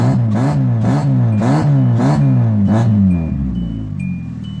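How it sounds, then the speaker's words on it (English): A Hyundai car engine cranks and catches, then is revved repeatedly in a rhythmic series of about six rising and falling bursts before settling toward a lower, steadier run, loud and close with no talk. "That's how you start a Hyundai."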